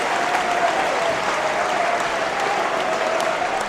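Heavy rain pours down over a football stadium as a steady, dense hiss that holds at an even level throughout, with no voices standing out.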